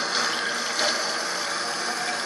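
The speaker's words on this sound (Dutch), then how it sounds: "We gaan heel veel de bekers vullen met water." Water pours steadily into plastic cups being filled one after another, a continuous close splashing gush with no talking.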